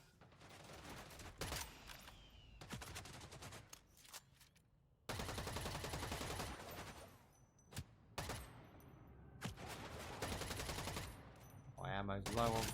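Gunfire in the video game EVE Vanguard, loud rapid automatic bursts in several runs with short pauses between, close up and punchy, with a voice talking in between.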